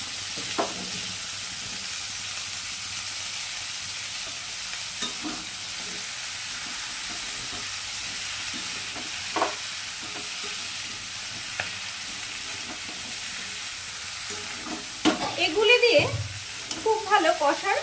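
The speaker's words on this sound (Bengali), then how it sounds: "মশলাটা খুব ভালোভাবে কষে নিয়েছি এবার দিয়ে দেবো কুইমিটুলি" Spices frying and being stirred with Malabar spinach stems in a pan for a vegetarian Bengali dish: a steady low sizzle with occasional utensil scrapes, building to louder stirring and clatter near the end.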